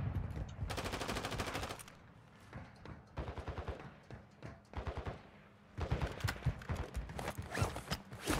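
Gunfire in Call of Duty DMZ: rapid automatic bursts rattle out in clusters, loud and close, separated by short quieter gaps and mechanical clicks.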